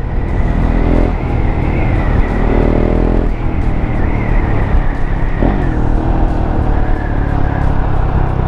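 A KTM Duke 690 single-cylinder motorcycle ridden on the road, engine note rising and falling through several gear changes and accelerations, close and steady under wind noise.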